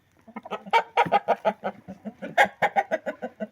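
Several chickens cluck close by inside a coop in a busy, steady series of short bursts, with no talking.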